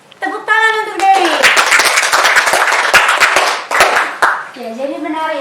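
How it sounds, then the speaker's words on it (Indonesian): Classroom applause for a student during a biology microteaching lesson on mitosis: a dense burst of many hands clapping lasting several seconds, close and loud, with brief talk before and after. "tepuk tangan untuk Dewi."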